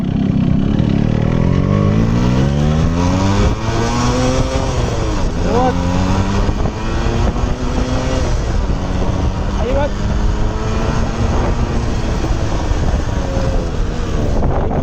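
Yamaha RX 135 motorcycle accelerating hard in first gear, its engine note rising in repeated climbing sweeps, loud and close throughout with heavy wind buffeting over the microphone.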